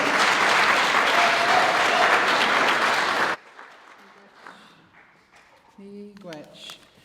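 Loud, dense audience applause at an Indigenous student graduation ceremony at Western University, sustained for about three seconds, then cut off abruptly, leaving quiet room sound and a speaker beginning to talk.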